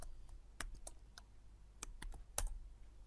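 Java code is typed on a computer keyboard, a quiet, close run of scattered individual key clicks with irregular gaps, no talk.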